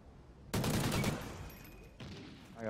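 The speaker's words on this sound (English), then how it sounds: "he's shooting at me" Gunfire in an online multiplayer shooter video game: a sharp burst of rapid shots rings out, then a second quieter burst follows about a second and a half later, close and loud against a quiet background.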